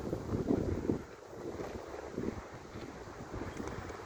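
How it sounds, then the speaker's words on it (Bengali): Steady wind gusts on an open seafront in Kuwait, a continuous low rushing that swells and eases, buffeting the microphone close up, with no voices. "হাওয়া চলছে, অনেক সুন্দর হাওয়া।"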